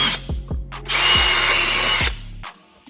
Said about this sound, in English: I'm going to finish drilling those out